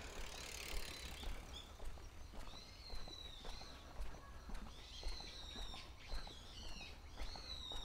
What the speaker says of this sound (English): Those birds are so noisy.